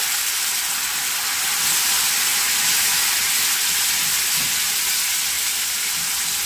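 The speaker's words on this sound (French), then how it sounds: "Ensuite, je verse un peu d'eau." Water poured into a hot pan of grilled spiced green cabbage sets off a loud, steady steam hiss and sizzle that holds unbroken for several seconds.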